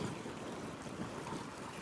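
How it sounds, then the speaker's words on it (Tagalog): Strong winter wind blowing outdoors, a continuous broadband rush buffeting the microphone, faint overall and with no voices. "sobrang lakas po ng hangin ngayon"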